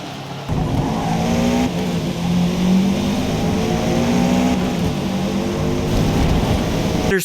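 A race car in Forza Motorsport roars around a track, its engine holding a loud, continuous tone with layered harmonics that climb and shift as it revs between gears.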